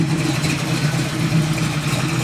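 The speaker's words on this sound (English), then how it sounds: "the Camaro is now running. You might hear it idling in the background." The 540 cubic inch big block Chevy in a 1968 Camaro idles with a loud, steady, deep rumble. The lumpy low drone stays close and unbroken throughout.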